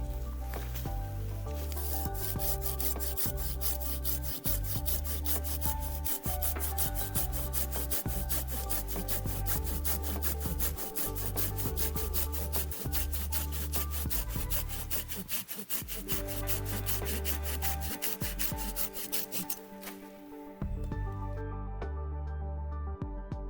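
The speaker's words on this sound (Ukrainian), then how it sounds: "А зараз давайте подивимося, як вона ріже е, деревину." A Silky Gomboy Curve 210-8 Japanese pull saw cuts through wood in steady rapid strokes, rasping continuously for about twenty seconds before the cut ends and the sawing stops.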